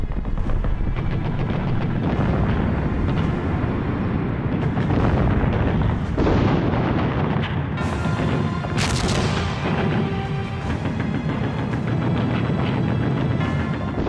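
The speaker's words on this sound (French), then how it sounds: "le bruit terrible de 1220 pièces d'artillerie allemande qui tirent sur un front de près de 12 km" A massive German artillery barrage on the Verdun front, 1,220 guns firing along roughly 12 km, heard as a continuous loud roar of booms and blasts overlapping without pause, dense and overwhelming throughout.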